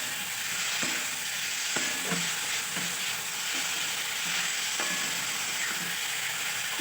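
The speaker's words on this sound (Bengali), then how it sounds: "এরপর আলু আর ফুলকপিটাকে খুব ভালোভাবে আমি মশলার সাথে কষিয়ে নিচ্ছি।" Potatoes and cauliflower frying in a pan with spices for a rohu fish curry, a steady close sizzle broken by regular scraping knocks as the pieces are stirred, with no voices.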